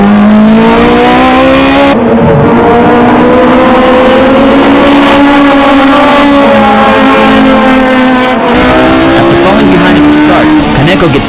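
Race cars on a circuit, including a Toyota AE86 Hachiroku, roar past with loud high-revving engines whose pitch rises and falls through gear changes, with tire squeal as a car spins; a commentator talks over the engines.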